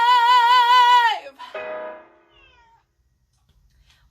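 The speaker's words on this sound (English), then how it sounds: "the guest star of my cat over there who can't sit still for 5 seconds to save her life" A female cat gives a long, loud, wavering meow close by, followed by a shorter trailing mew that fades into quiet.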